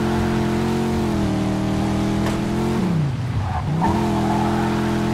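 A car engine revs steadily in the video game Mafia 2, a loud, continuous drone that dips sharply in pitch midway through and then recovers, with faint tire squeal and no talking.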